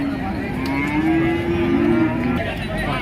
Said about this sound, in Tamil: பால் மாடுலாம் வந்துருக்குங்க விற்பனைக்கு